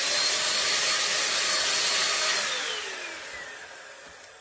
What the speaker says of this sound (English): so now let me just blow this off real quick. I have a blower here.